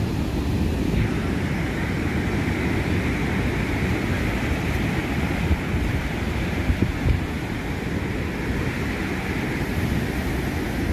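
Steady roar of sea waves breaking on Puri beach, a continuous loud wash of surf with wind buffeting the microphone throughout and no voices.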